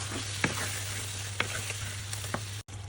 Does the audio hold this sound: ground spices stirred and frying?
yes